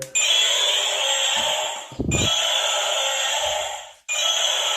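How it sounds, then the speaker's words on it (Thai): A toy transforming dinosaur car lets out a loud electronic roar, played three times in a row with brief gaps between the bursts, and no one talks over it. "ไดโนเสาร์ร้องแล้วครับ"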